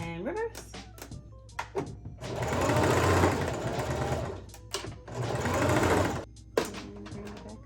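Singer Heavy Duty sewing machine set up for wig making stitches in two bursts of rapid mechanical whirring and clatter, with handling clicks and someone talking between and around the runs.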